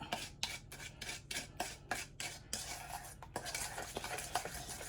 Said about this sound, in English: So I'm gonna try to keep stirring it